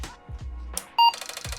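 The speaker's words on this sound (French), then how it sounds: "Le bip est tellement satisfaisant les amis" An Apple IIc computer gives a short, bright electronic beep on reset, a single clear tone near the mic, framed by faint clicks and a brief whir from its floppy disk drive.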